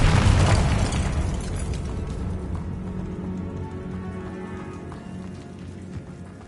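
A Confringo spell blast in a Hogwarts video game, one booming explosion at the start trailing off into a long rumbling, crackling decay under faint game ambience.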